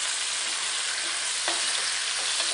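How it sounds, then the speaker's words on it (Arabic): Meat sizzles and fries steadily in a hot pan while being stirred, a dense continuous crackle with a brief scrape of the utensil partway through. "ببتدي هلأ أشوح"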